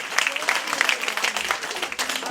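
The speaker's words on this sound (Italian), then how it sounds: "un grande applauso per Giovanni." An audience at a theatre performance in Rocca San Felice claps in applause, a dense patter of hands with voices speaking over it.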